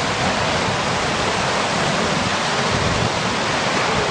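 River ice drift in spring, with ice floes breaking up and moving downstream, producing a dense, continuous rushing and grinding wash of noise, steady and loud with no clear individual impacts.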